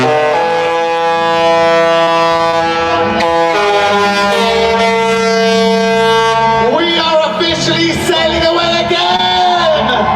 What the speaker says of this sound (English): Maybe we need foghorn.